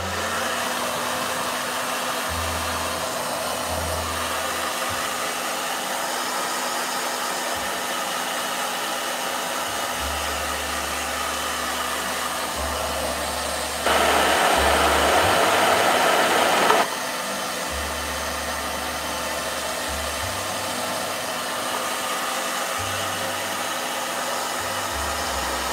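A blow dryer runs steadily for the whole stretch as a constant whirring drone, briefly rising louder for a few seconds midway, with no talking over it.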